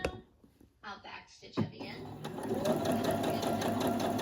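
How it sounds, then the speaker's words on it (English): A sewing machine stitches a line down a piece of fabric with a steady, close mechanical whir. A few brief clunks and rustles come first as the machine is set going. "Now I'm going to sew all the way down."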